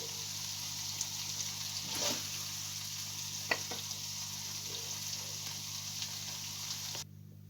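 Cooked meat sauté sizzles softly in a pan and is scraped and stirred onto a serving plate, a faint steady frying hiss with a few light clinks and scrapes, alone, ending abruptly.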